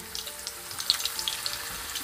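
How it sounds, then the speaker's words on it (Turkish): Potato slices fry in hot oil, a steady soft sizzle broken by small crackling pops at close range. "patatesi tamamen kızartmaktan ziyade burada renk alana kadar kızartmak benim için önemli."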